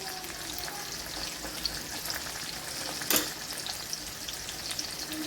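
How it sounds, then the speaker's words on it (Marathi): Turmeric goes into a sizzling pan of tomatoes tempered with mustard seeds and cumin, the steady frying hiss close and continuous with a brief clatter partway through. "आता आपण थोडी हळद टाकायची।"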